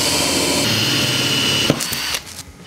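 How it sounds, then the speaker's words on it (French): A 16 mm bit bores a hole through MDF while building a compact folding MFT-style workbench: a steady, close whirring grind runs for about two seconds, then cuts off, leaving a few faint clicks. "avec une fraise similaire mais de 16 mm de diamètre, je vais pouvoir venir percer mon trou en reprenant le centre que j'ai marqué tout à l'heure"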